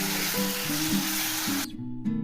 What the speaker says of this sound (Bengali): মাছটা খুব সুন্দর করে ভেজে নিতে হবে, একদম মুচমুচে করে ভেজে নিয়েছি